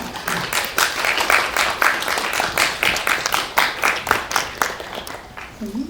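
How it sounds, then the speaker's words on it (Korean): An audience at a Korean press screening and Q&A for the independent film 'Moreuneun Iyagi' applauds as actors are brought to their seats. The clapping is dense and sustained for several seconds, then thins out toward the end. "뜨거운 박수로 맞이해주시겠습니다"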